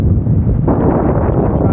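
Strong gusting wind beside a highway during a cross-Canada bike tour, a loud, continuous low roar and buffeting rush across the microphone with no voices heard.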